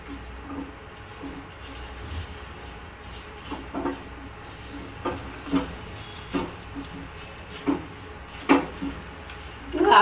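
Masala filling is stirred in a pan with a spoon, giving sparse, irregular scraping clicks over a soft low hiss, growing a little louder toward the end, with no talking.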